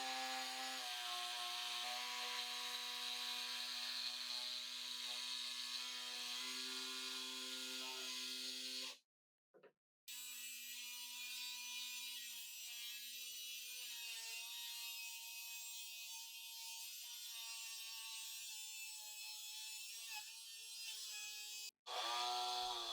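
Plywood being cut to make room for clamp tracks on a workbench top, a steady tonal power-saw whine held for about nine seconds, a brief break, then another long continuous cut ending with a short burst.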